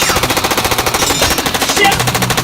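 Rapid, loud Tommy gun machine gun fire from a film scene, a continuous rattling burst of evenly spaced shots with no pause.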